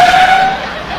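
A voice imitates a car driving up into a home driveway, a sustained rushing engine-and-tire whoosh with a whining tone that fades slightly toward the end, heard alone.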